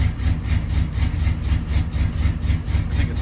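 A Chevy truck's 5.7 liter 350 diesel V8 running roughly just after a cold start at 3 degrees, a loud close steady idle with a rhythmic, uneven pulsing knock suggesting misfiring cylinders.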